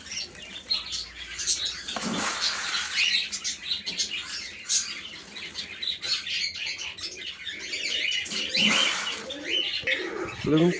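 Pet pigeons and other small birds chirp and tweet in a busy, layered chatter, with occasional wing flutters rising above the steady background.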